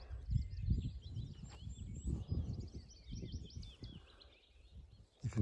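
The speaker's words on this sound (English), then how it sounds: "You can just hear the birds" Faint chirps and birdsong from birds in Harwood Forest near the Simonside Hills, scattered high calls above low rustling and wind-like rumble, with a sharper burst near the end.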